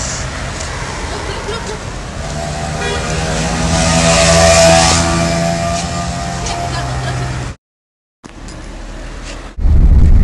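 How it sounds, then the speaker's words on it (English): A big shared taxi drives through Rabat at night, its engine and road noise droning steadily up close with a brief cut to silence near the end and talk over it. "So this is the taxi."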